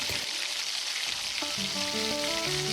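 Garlic fries in a little oil in a pan, a close, soft, steady sizzle and crackle, with faint tonal hums and clinks rising partway through.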